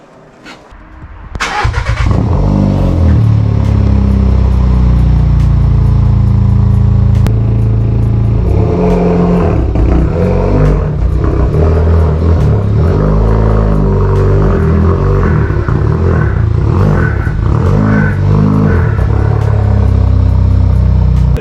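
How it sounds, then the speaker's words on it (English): A Volkswagen car engine turns over and catches, then settles into a loud, throaty idle and low rumbling as the car rolls slowly, steady and close. "I wanted to record this because this car sounds awesome."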